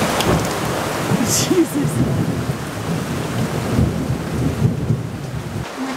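Heavy thunderstorm over a sailboat at anchor off Sicily, with steady rain pounding and rolling thunder throughout, then a close lightning strike cracking loudly near the end; people speak briefly in alarm.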